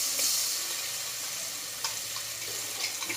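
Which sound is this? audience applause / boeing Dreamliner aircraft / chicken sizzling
chicken sizzling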